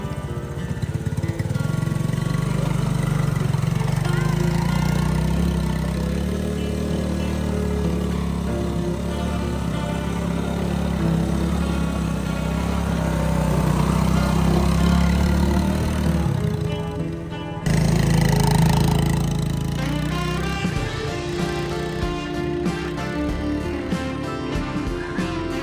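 A three-wheeler ATV engine runs steadily and loudly throughout as the rider works the throttle, with a brief dip near the end before the engine note picks back up, no talking over it.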